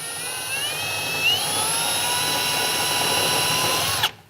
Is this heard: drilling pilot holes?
yes